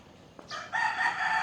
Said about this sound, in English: We can hear the roosters.